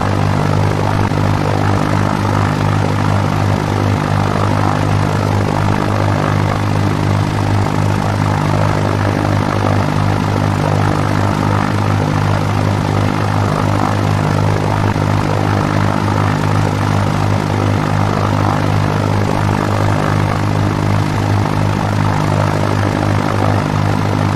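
Steady propeller engine drone of a light aircraft in X-Plane 11, flying a crosswind landing approach, loud and continuous with a constant low hum and no talking.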